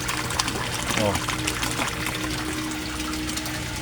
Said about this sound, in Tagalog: Ang lakas-lakas ng aerator, yung nag-i-air. Yan. At ang lakas-lakas pa ng water falls.